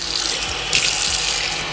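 Water running from a tap into a pot for rice and pigeon peas, a continuous close gushing splash with slight shifts in pitch as the level rises.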